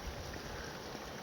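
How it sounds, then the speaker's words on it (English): A waterfall and creek rush in a steady, full roar at Deep Creek along the Pacific Crest Trail, loud and continuous with no breaks or voices. "you're hearing and seeing the waterfalls"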